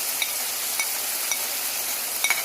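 Daal mash with turmeric, red chilli and salt fries in a pan, a steady close sizzle with light stirring scrapes now and then and no voices.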